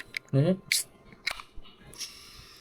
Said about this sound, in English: So what we're going to do is crack it open.